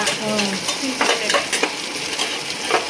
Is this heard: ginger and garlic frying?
yes